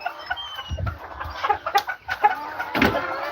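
Chickens on a farm in Aklan cluck and squawk close by in a busy run of short calls, with some scratching and movement noise around them.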